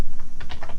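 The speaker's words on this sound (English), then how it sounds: "You're going to type in equals" A computer keyboard sounds a quick run of about a dozen crisp, loud, close keystrokes in an even rhythm during spreadsheet data entry in Excel, with no voice over it.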